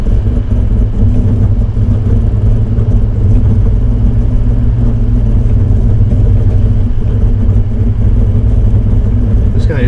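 A Toyota Land Cruiser crawls through sand on crawl control, giving a loud, constant low engine rumble and drivetrain drone that continues without a break.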